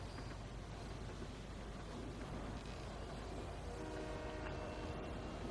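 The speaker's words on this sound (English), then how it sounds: "I'm gonna see if I can ride the train all the way around the island and come back to you guys." Train rumbling along its track in the video game Fortnite, a steady continuous roar with a faint horn-like tone near the end, moderately loud and alone.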